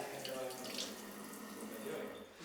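A sink tap runs steadily as hands are rinsed, a continuous close splashing rush of water with no break across the moment.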